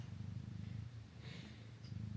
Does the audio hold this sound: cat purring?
yes